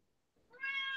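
A house cat gives a single clear meow close by, rising out of near silence and holding steady to the end.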